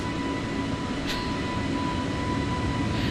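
Airbus A320neo jet engines in Microsoft Flight Simulator 2020 during takeoff from Milan, a steady, loud, unbroken roar that holds at the same level throughout with no voices.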